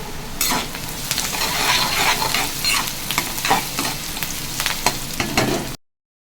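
Chopped onions sauté in a pan for drumstick thokku, giving a steady loud sizzle with scraping stirring strokes throughout, then cutting off abruptly near the end.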